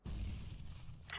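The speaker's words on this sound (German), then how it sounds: "Grenade out." A grenade blast in Counter-Strike: Global Offensive, a loud, booming low rumble that fills the moment and fades with a short rattling tail.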